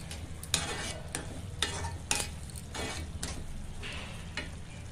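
Ground spices, coriander and cumin powder, sautéing in a pan for chole masala: a soft continuous sizzle broken by sharp scraping strokes of a spoon against the pan, close up with no talking.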